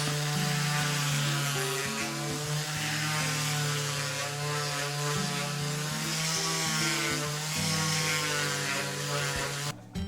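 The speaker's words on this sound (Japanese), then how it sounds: "だからサンダーで仕上げていきたいと思います。" A power sander grinds steadily across a huge 300 kg zelkova wood slab, a loud, close, continuous motor drone with shifting pitch as it works the uneven surface, no voices.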